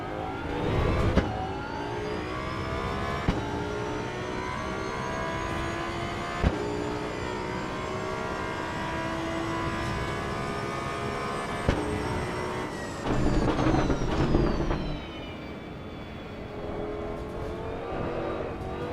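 A car engine in the racing simulators Assetto Corsa EVO and Project Motor Racing revs and climbs through the gears, with sharp downshift blips spaced apart. The sustained, close engine note changes pitch and swells louder near the end.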